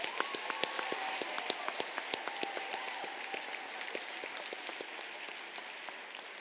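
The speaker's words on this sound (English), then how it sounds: "One more round of applause for our outstanding 8th grade class." A school audience applauds the graduating 8th grade class at a ceremony, with steady, fairly quiet clapping from a mid-sized crowd that holds for several seconds and slowly tapers off.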